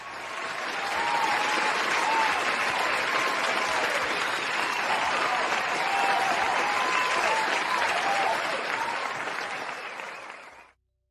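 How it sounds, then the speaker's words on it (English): An audience gives a long round of applause, with dense, sustained clapping from a sizable crowd holding steady for about ten seconds before fading quickly, with faint voices and a few cheers inside the noise. "round of applause for everybody today"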